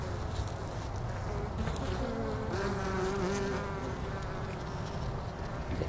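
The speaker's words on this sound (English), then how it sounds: "I just thought that bee was kind of cool with the pollen on its legs." A honey bee with pollen on its legs buzzes close by, a steady wavering drone whose pitch rises and falls as it moves, over outdoor background noise.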